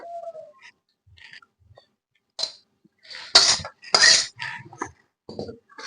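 A cooking pot clinks and scrapes as cooked Malabar spinach is tipped out in a home kitchen, several sharp metallic knocks clustered in the middle, close and fairly loud, with quiet gaps between.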